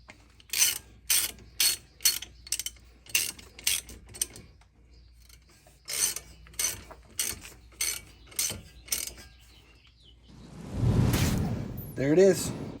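A ratchet tightens the brake caliper slide bolts during a rotor replacement, sounding as quick, regular bursts of loud close clicking, followed by a rustling whoosh and handling noise at the end.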